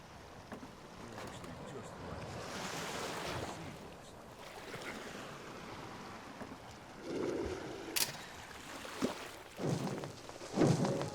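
A ship setting sail in the Lucius 3 video game: a wooden vessel creaks and water laps and splashes against the hull, with soft wind and a few sharper knocks toward the end.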